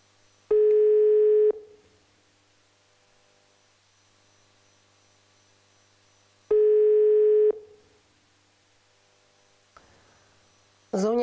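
An unanswered phone call: two long ringback tones about five seconds apart sound clearly over near-silence, followed by a brief faint voice at the end.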